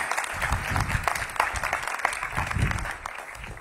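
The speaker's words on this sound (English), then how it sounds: "a big round of applause to you all" Crowd at a ribbon cutting for the new DC Health headquarters applauding the project workers, moderate clapping heard under a speaking voice, fairly faint and outdoors-sounding.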